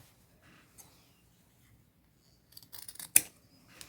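Scissors snip through denim jeans up close, a few quiet sparse cuts early on, then a cluster of sharp, crisp snips near the end against an otherwise silent background.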